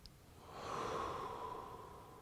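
A deep, drawn-out breath during a yoga stretch swells up and then slowly fades. It is a soft, close, airy sound with no talking.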